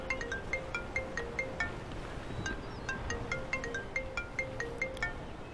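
A phone rings with an incoming call, a bright electronic ringtone repeating in quick regular pulses throughout, moderately loud over a faint background hum, with no talking.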